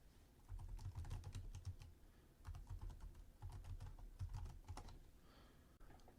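Someone types a web address on a computer keyboard, tapping out quick bursts of clicking keystrokes separated by brief pauses. The typing is close and fairly quiet, with no voices over it.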